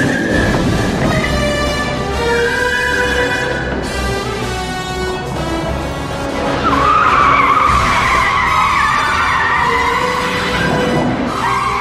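A remote-controlled car skids with sustained squealing tyre tones over a rumbling, noisy background, loud and continuous with no talk.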